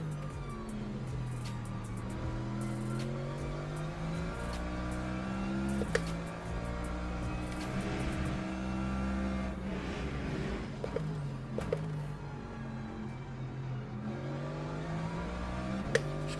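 A Mercedes race car driven around the Portimao circuit in Le Mans Ultimate, its engine droning steadily and loudly throughout with shifting pitch as it accelerates and changes gear, no talking over it.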